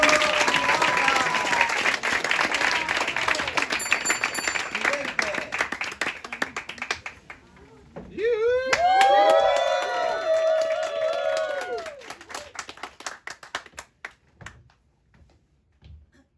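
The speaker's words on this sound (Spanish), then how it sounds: "Un aplauso para Pedro." An audience applauds at an audition, loud sustained clapping with some cheering that fades out, overlapped by a brief high-pitched melodic vocal or whistle-like sound midway.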